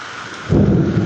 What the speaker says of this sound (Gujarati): ને કડાકા ભડાકા